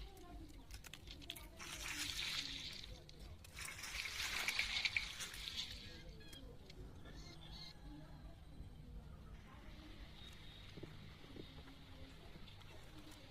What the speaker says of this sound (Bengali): মাছগুলো এখন ধুয়ে নিল।